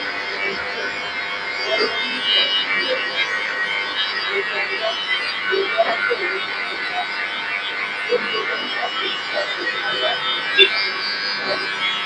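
Electric hair clipper buzzing steadily while cutting a high fade on an Afro, a continuous close hum with small fluctuations throughout.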